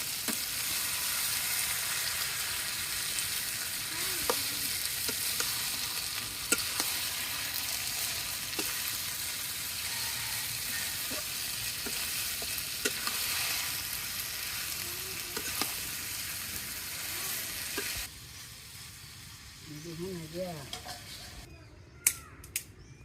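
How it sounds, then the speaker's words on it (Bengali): Rooster meat sautéing with spices in a pan gives a steady, close sizzle with scattered stirring clicks, and the hiss drops off sharply near the end. "এখন ভালো করে কষিয়ে নিবে"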